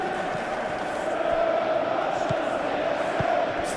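Stadium crowd in a PES 2021 football match between Chelsea and AC Milan, a steady dense roar with swelling cheers throughout, commentary voices over it.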